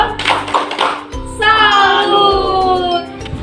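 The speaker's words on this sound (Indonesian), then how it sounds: "Tepuk salut dulu yuk. Tepuk salut." Children in a Sunday school gathering do a rhythmic salute clap, with bursts of hand claps in a steady pattern between spoken and sung voices of a leader and kids.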